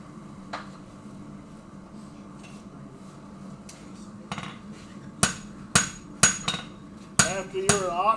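A blacksmith hammers hot steel while forging tongs, working the stock into an octagon: faint taps early on, then a run of sharp, ringing hammer blows close by with short gaps between them.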